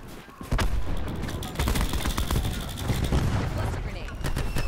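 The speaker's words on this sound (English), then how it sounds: "Throwing cluster grenade." Cluster grenade blasts and gunfire in Call of Duty: Black Ops 4, a loud, dense run of rapid cracks and bursts after a brief quieter start, with shouted voices partly mixed in.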